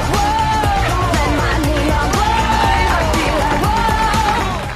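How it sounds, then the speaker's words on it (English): Audience at a fashion runway show cheering and whooping over loud pumping music, a steady crowd roar blended with the beat throughout. "I hear the audience cheering"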